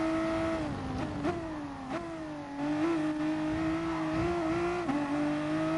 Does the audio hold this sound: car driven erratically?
yes